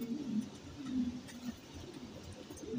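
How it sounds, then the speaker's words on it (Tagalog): Pigeons coo softly in a loft, low throaty calls repeating a few times over faint background noise, with no voices. "Yung mga makukulit dito sa baba, mga kalapatid."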